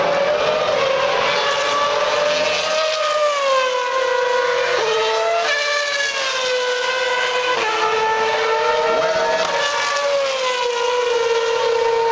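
A Formula 1 race car pulls out of the pit lane at the Valencia street circuit, its loud high-pitched engine whine rising and dropping through several gear changes, close and with no talking.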